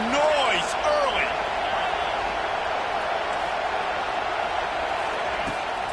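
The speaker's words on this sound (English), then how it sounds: "This crowd bringing the energy and noise early." Stadium crowd at a college football game against NC State, a broad steady roar of many voices filling the whole stretch, with a few whistles and shouts near the start and an announcer talking over it.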